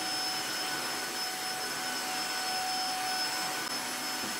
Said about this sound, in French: Donc je suis obligée de mettre l'autre aspirateur, vous savez, le tout premier que j'avais acheté, le petit rond.